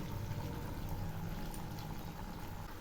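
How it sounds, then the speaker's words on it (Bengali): Whisked sour yogurt is poured into a pan of fried eggplant and spices, producing a dense, continuous wet hiss and splatter that stays steady for a few seconds. "এখন আমি এর মধ্যে দিচ্ছি ফেটিয়ে নেওয়া চার চামচ টক দই"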